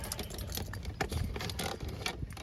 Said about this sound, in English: We got to grab our keys.